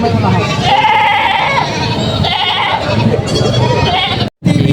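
A goat bleats loudly and close by in wavering cries at a goat market, with people talking over and around it.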